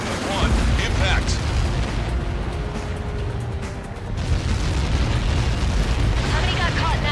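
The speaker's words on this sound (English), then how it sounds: "How many got caught in that explosion?" A huge missile blast in the Ace Combat 7 video game, a dense sustained roar and rumble filling the whole span with no break, loud and continuous with a slight dip partway through.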